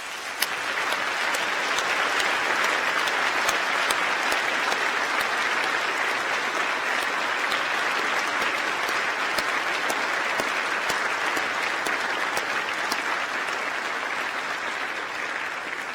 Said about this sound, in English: join me in applauding our outstanding staff